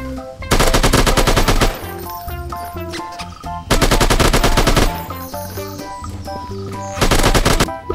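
Bursts of rapid automatic AKM rifle fire from a video game, three loud volleys separated by pauses, with game music underneath.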